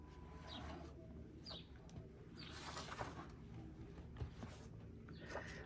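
Faint bird calls and coos in the background, with a few soft chirps over low ambient noise and no speech.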